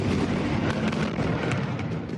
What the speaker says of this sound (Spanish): En medio del sonido de fuertes explosiones en cuestión de segundos, la torre Mustajá de 12 plantas de la ciudad de Gaza fue derribada